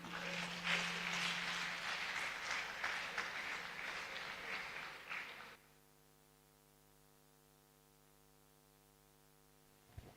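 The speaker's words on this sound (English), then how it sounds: "Please, a round of applause again for our professor" Conference audience applauding a professor at a teachers' leadership event, a dense burst of clapping lasting about five seconds before cutting off to a quiet, humming room.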